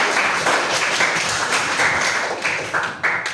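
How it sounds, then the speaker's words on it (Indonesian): A class of students applauds in a classroom, a dense wash of clapping that swells in repeated loud bursts close by. "Beri tepuk tangan untuk kalian semua"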